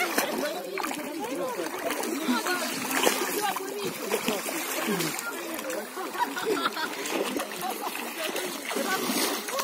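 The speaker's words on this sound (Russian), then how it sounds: "Бомбочка в воде" Someone does a cannonball jump into a pond, and the water splashes and sloshes continuously and fairly close while voices talk and call out over it.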